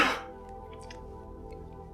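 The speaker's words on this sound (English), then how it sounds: "I need to cough, hang on." A single short, loud cough close to the microphone, followed by a quiet, steady hum of background game music.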